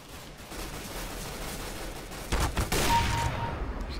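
Negev machine gun fire in the CS:GO game Arms Race mode, a sustained rapid burst of automatic shots erupting in the second half, loud over a steady bed of in-game background noise.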